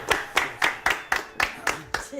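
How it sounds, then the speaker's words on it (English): A crowd of goblins and ogres claps after a rousing speech, with eight sharp, evenly spaced bursts of clapping landing about every quarter second, loud and close, with some voices mixed underneath. "Your clapping awakes the giant."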